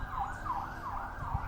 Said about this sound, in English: so many sirens,